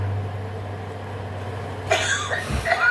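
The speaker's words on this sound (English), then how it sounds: "just a nice big cough" A single close cough, abrupt and rough, after a steady low hum.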